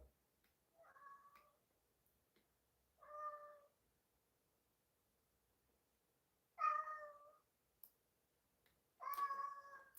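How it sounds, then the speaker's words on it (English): A domestic cat meows four separate times, each a drawn-out, fairly loud call close by, with quiet pauses of a second or more between them. "God, this fucking cat"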